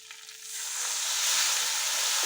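Vegetable curry spiced with extra cumin powder sizzles hard in a pan as water is added, a dense steady hiss that swells louder and stays loud to the end, with no talking.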